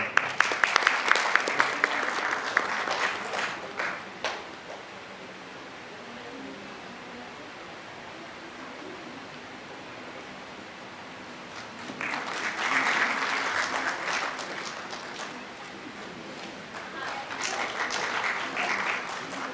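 Hearty audience applause at a stage play performance, crisp clapping bursting at the start, fading to quiet room hiss, then swelling again twice later on.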